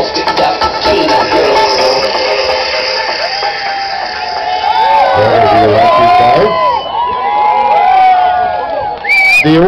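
A large festival crowd at a Goan carnival in Bangalore cheers and shouts loudly and continuously, with high whoops and children's yells rising over the din throughout.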